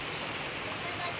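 Floodwater from a river swollen by a typhoon rushes past in a steady, broadband roar, loud and continuous with no breaks, filling the whole short stretch.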